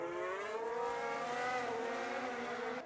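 Racing cars in an F1 video game at the Red Bull Ring sweep past with a steady, high, harmonic engine whine that climbs slightly in pitch, loud and continuous for a few seconds with no talking.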